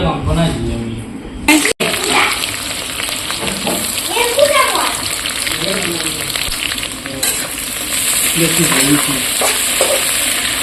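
Onions frying in hot oil for a goat meat curry, a steady sizzle with stirring and scraping running throughout, with people talking over it nearby.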